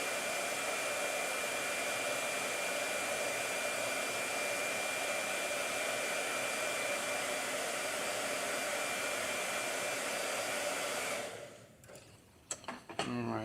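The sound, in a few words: hair dryer blowing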